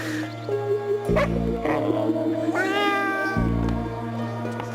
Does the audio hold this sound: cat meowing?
yes